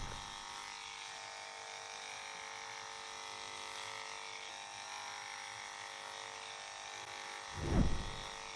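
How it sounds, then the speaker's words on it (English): An electric dog clipper running on low speed grooms a Schnauzer, giving a steady, faint, high-pitched motor buzz that hums continuously, with a brief louder bump near the end. "the reason we have the clipper on low is so the blade doesn't heat up as quickly"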